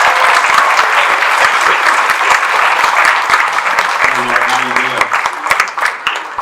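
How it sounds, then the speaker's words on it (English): An audience at a special needs talent showcase keeps up a loud, sustained round of applause for a cello trio, dense clapping throughout with a few voices and a brief tonal note near the end. "Keep that round of applause up for our cello trio"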